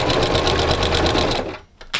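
A domestic sewing machine stitches fabric for an accent pillow, giving a loud, close, rapid mechanical whir that slows and stops near the end.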